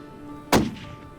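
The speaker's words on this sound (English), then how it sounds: "That's some good shooting" A single loud, close gunshot fired while hunting on the snowy prairie, a sharp crack with a short fading tail and no talk.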